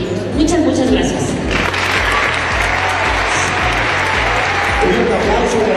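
Sustained audience applause for Dr. Cristina Rodríguez at an eyeglasses handover ceremony in Secondary School No. 21, dense and loud throughout, with a steady low rhythmic pulse and voices underneath.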